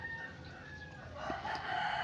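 A rooster crows over a busy outdoor background, with chickens clucking nearby amid steady ambient noise.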